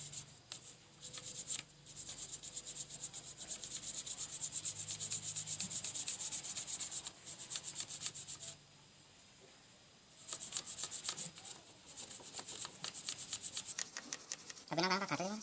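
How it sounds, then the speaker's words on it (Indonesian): A motorcycle engine block is scrubbed clean by hand, in long rasping strokes that stop and start, with brief pauses and quick short rubs toward the end. "Gosok terus guys sampai terlihat bersih"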